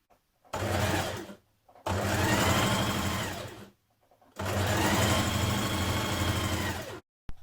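A sewing machine topstitches around the edge and collar of a Simplicity 8218 jacket in three steady bursts, close and loud, with short pauses between runs.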